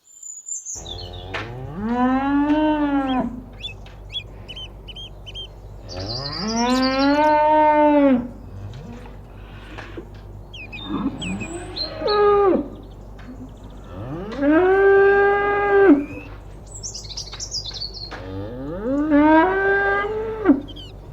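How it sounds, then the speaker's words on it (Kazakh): A cow moos five times in long, loud, drawn-out calls separated by short pauses, with faint chirping in the background between them. "Сиыр."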